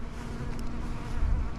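Honeybees buzz steadily and close around a beekeeper working an open hive, a continuous droning hum with a low, even tone and no talking.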